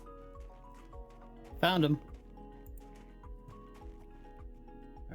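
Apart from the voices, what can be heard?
horse hooves clip-clopping in the video game TerraFirmaCraft (Minecraft)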